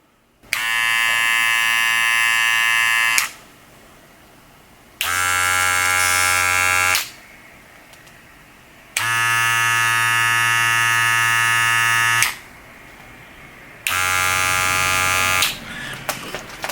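Wahl Cordless Senior electric hair clippers buzz loudly in four separate bursts of about two to three seconds each, with short quiet gaps between them, alongside a Wahl Magic Clip for comparison.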